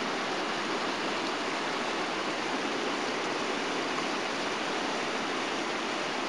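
Water of an old neighborhood creek in Cleveland rushes steadily in a broad, even wash of sound, close and constant throughout with no voices over it.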